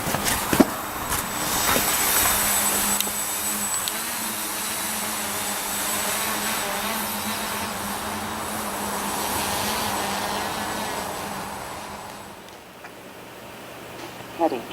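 A hexcopter drone running an APM2.6 controller flies autonomously, its rotors giving a steady, loud whine that holds for most of the stretch and fades slightly toward the end.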